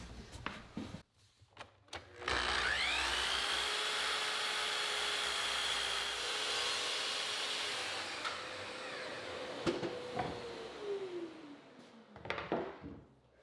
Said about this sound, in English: I'll readjust the stop block and cut the shorter side pieces to length